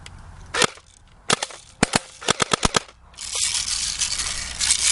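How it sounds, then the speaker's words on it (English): An airsoft gun fitted with a laser fires BBs in a series of sharp, close snapping shots, one alone, then a pair and a quick irregular run, followed by a hissy rustle. "It is shooting BBs."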